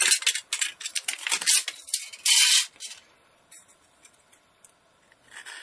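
Several quick crisp snips and rasping cuts as a knife slices thin aluminum, close up, then a brief burst of harsher scraping before it fades to quiet.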